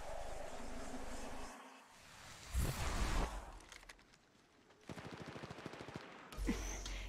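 Bursts of automatic gunfire in Apex Legends Mobile, loud dense volleys and a string of rapid shots mixed with game effects and explosions, with no talking.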